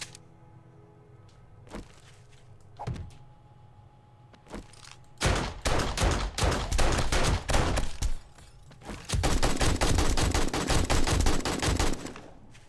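Gunfire aimed at a bear in 7 Days to Die: a few isolated shots and clicks at first, then long rapid bursts of loud automatic fire with a brief pause between, close and without talk.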